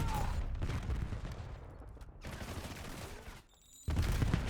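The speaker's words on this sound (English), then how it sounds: "Everybody's shooting their guns right now in this lobby." Rapid gunfire from many players in a competitive esports match lobby, dense bursts of shots rattling continuously, dropping out briefly near the end before resuming, with faint commentary underneath.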